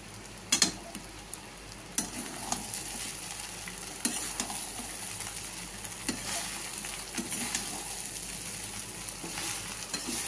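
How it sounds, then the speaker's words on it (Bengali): Thick flattened rice (chira) fries slowly in a pan for chira pulao, giving a steady close sizzle throughout, broken by sharp clicks and scrapes of a spatula stirring against the pan. "এইভাবে আমি চিড়াটাকে আস্তে আস্তে ভেজে নেবো।"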